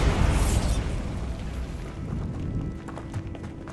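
A Bombarda explosion spell in the video game Hogwarts Legacy, a loud rumbling blast that fades into crackling debris over a few seconds.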